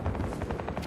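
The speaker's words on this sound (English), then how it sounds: "Spied enemy helo!" Enemy helicopter in the Battlefield video game, a steady pulsing rotor drone with rhythmic chopping beats, loud and continuous amid game noise, no talking.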